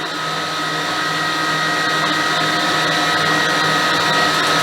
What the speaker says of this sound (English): I'm going to mix for about 10 minutes on high, medium high